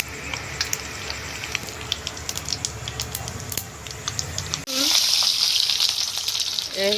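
Mustard seeds and cumin sizzle and crackle in two spoonfuls of hot oil in a pan, a steady close frying hiss that jumps louder partway through, with scattered pops and faint kitchen noise.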